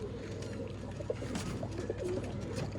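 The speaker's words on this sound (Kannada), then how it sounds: "ಇವಾಗ ಸಿದ್ದಿಕ್ ಬೈ ಏನಂತ ಇದಾರೆ, ಬಿಟ್ಟು ತೋರಿಸ್ತಾರಂತೆ ಪಾರಿವಾಳ ಇವಾಗ ಆರಿಸಿ." Pigeons of an old-line breed cooing steadily at a pigeon sale in Bangalore, a soft continuous low murmur of calls with no talk.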